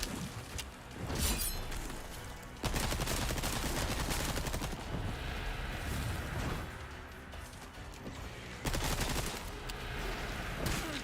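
Gunfire in Resident Evil 4 Separate Ways: repeated bursts of shots and crackling impacts against a dense, constant game soundscape, fairly loud and close, with no clear talk over it.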